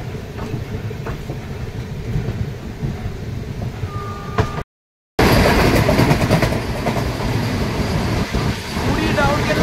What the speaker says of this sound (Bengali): পুরী রাউরকেল্লা বন্দে ভারত এক্সপ্রেস আমাদের ওভারটেক করে চলে যাচ্ছে।